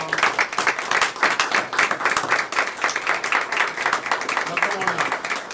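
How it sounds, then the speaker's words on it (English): Sustained applause from an audience at a school district board meeting as students are called up front, dense steady clapping filling the room with voices mixed in. "would y'all please come, stand and come up and give them a round of applause"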